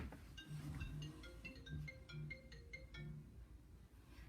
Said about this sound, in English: Oh, why is my phone ringing?